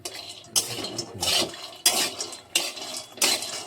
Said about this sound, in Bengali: এটা অনেকক্ষণ টাইম লাগবে ভাজতে